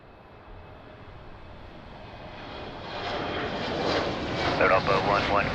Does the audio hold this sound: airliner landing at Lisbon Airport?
yes